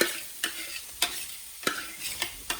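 Cauliflower rice and greens frying in a pan of browned butter, a soft steady sizzle broken by about six sharp spatula scrapes at an even pace.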